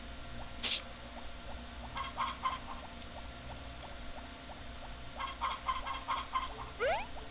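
Chickens in the farming video game Harvest Moon: Back to Nature make soft, repeated clucks and short chirps over a steady low background hum, with scattered pattering steps.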